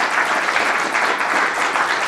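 Audience applause for a speaker at a technical talk on autonomous vehicle software, a dense steady wash of many hands clapping, fairly loud and continuous throughout with no voices over it.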